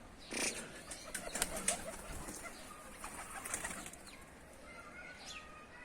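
Adana pigeons flying in and landing outdoors, with soft bursts of wing flapping and a few faint coos and chirps, fairly distant and quiet against background ambience.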